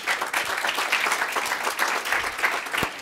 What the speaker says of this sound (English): another thunderous round of applause for their information